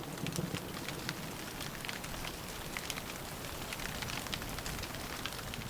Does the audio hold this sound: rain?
yes